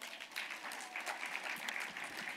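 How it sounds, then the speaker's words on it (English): An audience at a women political leaders' global summit applauds with steady clapping, fairly quiet and distant, with individual claps standing out in the sustained sound. "Let's clap for her."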